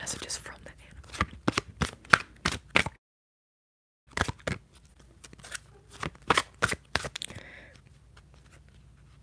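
Oracle cards shuffled close-up in bursts of crisp, rapid riffles with a short silent pause midway, and soft whispering between the bursts.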